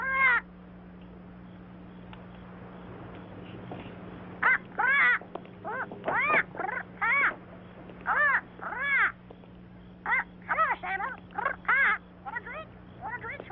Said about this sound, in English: Put a lid on that bird.